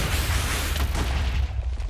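Explosions fired by the Wither boss in Minecraft, a dense burst of booming blasts in quick succession, loud and close, filling the whole short stretch with no talk.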